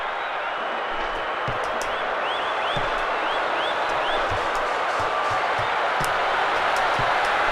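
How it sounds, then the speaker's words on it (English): Steady, loud stadium crowd roar from the football video game ISS Deluxe on PlayStation, a dense continuous wash of cheering with faint whistle-like chirps over it and no talk. "Listen to the roar of the crowd."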